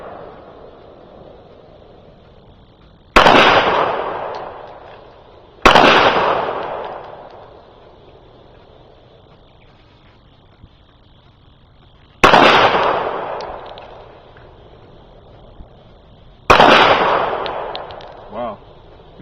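A Hi-Point .45 pistol is fired at a target outdoors, four loud, sharp gunshots spaced several seconds apart, each trailing a long echoing decay, with no talk between them.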